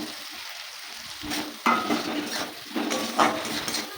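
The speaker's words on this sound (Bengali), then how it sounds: "আলুটা দিয়ে মশলা ভালো করে কষিয়ে নিয়েছি।" Fried potatoes tossed with spice paste in a pan for a shrimp and fig curry: a soft sizzle that grows louder as the ladle starts scraping, with several clattering strokes heard up close and no voices.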